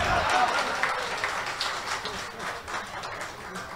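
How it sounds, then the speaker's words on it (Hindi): Audience clapping at a Hindi comedy poetry event, steady applause in a hall, moderately loud and fading slightly, with a voice talking over it. "जिन 2 लोगों ने ताली बजाई"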